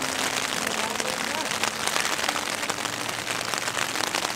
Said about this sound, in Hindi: अब जब तक ये बारिश रुकेगी नहीं, बाहर निकलने का कोई फ़ायदा नहीं रहेगा